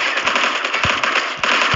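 Rapid gunfire from the mobile shooter game Call of Duty Mobile, fired on automatic aim, crackles in quick, loud bursts of sharp pops over a continuous game soundscape.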